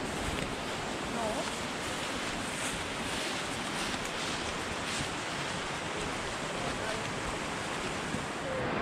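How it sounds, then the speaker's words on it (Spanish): A waterfall in the forest near Argovejo gives a soft, even rush of falling water, constant and moderately distant with a touch of wind noise. "una cascada más bonita, está preciosa."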